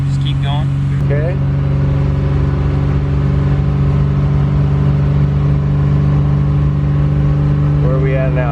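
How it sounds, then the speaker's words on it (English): V6-swapped Acura Integra running at steady low speed on a dyno, a constant loud engine drone with a droning tonal hum, while people talk over it. "Hanging out at 24 miles an hour up there on the dyno."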